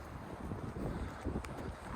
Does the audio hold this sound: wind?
yes